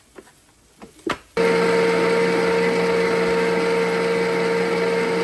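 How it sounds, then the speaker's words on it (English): An electric mixer whirs into a loud, steady drone as it mashes potatoes with butter, starting abruptly after a few light clatters and then running unbroken. "It's a mixer."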